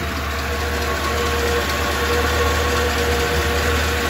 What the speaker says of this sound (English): The exhaust leak's starting maybe.